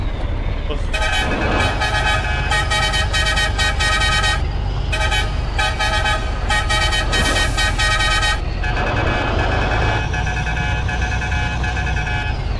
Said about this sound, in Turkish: Değişik kornalar var bunun ya